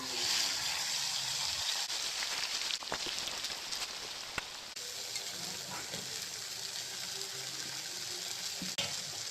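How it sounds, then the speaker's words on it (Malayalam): Fish fries in hot oil in a pan in a home kitchen, a steady sizzling hiss with occasional sharp crackles and pops throughout. "ഇനി അടുത്ത സ്റ്റെപ്പ് മീൻ നമുക്ക് പൊരിച്ചെടുക്കാം."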